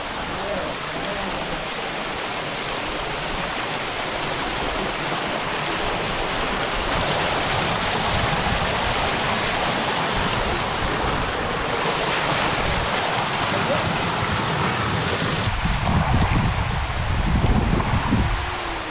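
The Véu de Noiva waterfall near Itaitu in Jacobina, Bahia, makes a steady, loud rushing roar that fills the whole stretch, with some wind buffeting the microphone.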